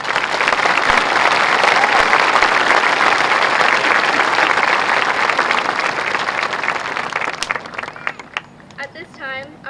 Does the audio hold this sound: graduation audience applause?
yes